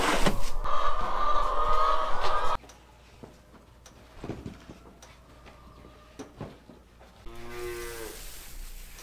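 Farm cattle fed grain in a barn give a clear, drawn-out moo near the end, following a stretch of steady mechanical noise and scattered clinks and knocks.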